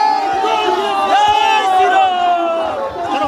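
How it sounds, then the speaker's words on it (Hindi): A large crowd at a BJP political rally near Nandigram, Khejuri, chants Jai Shri Ram slogans, loud and continuous with massed voices and whoops throughout. "इस तरह से जय श्री राम के नारे लगाए जा रहे हैं, जय श्री राम के नारे लगा रहे हैं"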